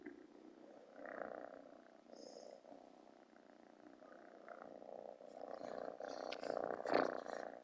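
A cat purrs close by, a soft, steady rumbling that swells and fades in breathy cycles, quiet overall and heard alone without voices.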